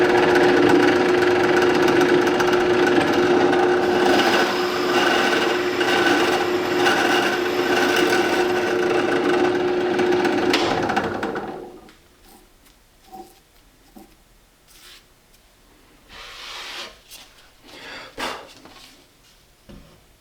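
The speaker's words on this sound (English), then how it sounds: "adjusted the depth so that the Forstner bit is going into the MDF slat about 3/8 of an inch deep" A Forstner bit bores about 3/8 inch deep into an MDF slat on a CNC router spoilboard, a loud, steady whining drill grind for about eleven seconds, then stopping, followed by scattered quiet knocks and shuffling.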